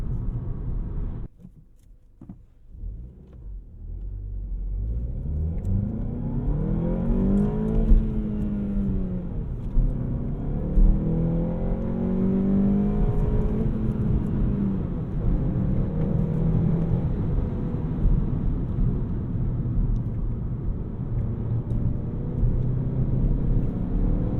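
A 2020 VW Golf GTI hatchback accelerates hard at high RPM, its engine note climbing through rising sweeps with shifts between gears, a steady interior rumble and whir heard close and alone.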